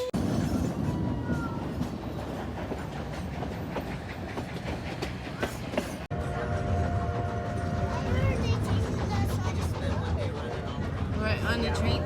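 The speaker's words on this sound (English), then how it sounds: "We're on the train tracks." An excursion train runs along tracks in wintry Colorado, a continuous rumble with rhythmic clickety-clack of wheels on rails, close and loud throughout, while people talk over it.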